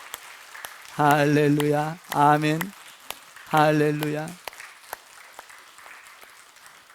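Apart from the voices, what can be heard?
applause in church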